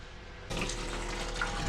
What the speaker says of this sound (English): Okay, so we're pumping water out now